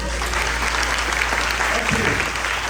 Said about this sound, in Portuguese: Vamos dar um aplauso para Jesus.